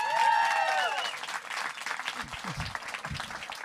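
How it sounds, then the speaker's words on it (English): A live cafeteria comedy-show audience claps and cheers loudly, a dense burst of applause that fades a little as a host's voice starts talking over it. "Please give another warm round of applause to Phoebe O'Brien."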